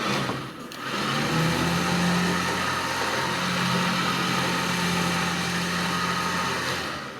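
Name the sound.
12,000 lb ZXR Badland electric winch running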